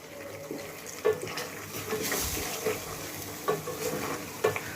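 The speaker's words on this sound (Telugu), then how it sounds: "బాగా చిన్న మంట మీద ఏంటంటే మంచిగా దీన్ని ఉడికియాలన్నమాట" Kalakand milk sweet mixture made from split milk cooks over a low flame, giving a soft, steady bubbling simmer with occasional louder stirring scrapes near the pan.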